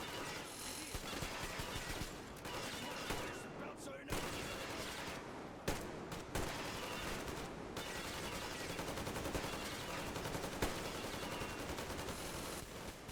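Sustained automatic gunfire in a video game, dense rapid bursts running almost continuously at steady loudness, with a voice talking over parts of it.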